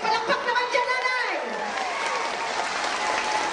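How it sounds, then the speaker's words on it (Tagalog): A crowd claps at an outdoor toy-giving and medical mission event in Lemery, with dense applause and a few cheers under a speaker's amplified voice, tapering off. "palakpak naman dyan"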